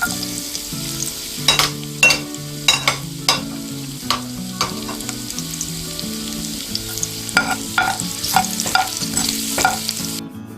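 Garlic for escabeche sauce sizzles in a pan under a steady hiss, punctuated by sharp, regular spoon clinks and scrapes against the cookware, with a tonal hum from a stove or fan running beneath.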